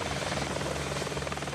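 Helicopter rotor noise from a helicopter flying from an amphibious helicopter carrier, a loud, dense, continuous whirring buzz with a pulsing beat throughout.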